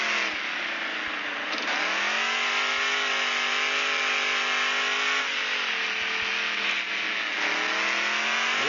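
A truck engine in the Offroad Outlaws video game drones loudly and continuously at high revs as it drives fast, the pitch dipping and climbing again a couple of times with no voices.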